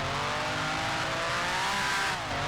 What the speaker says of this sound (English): I'm pressing the throttle and nothing is happening. I see, it's coming in the higher revs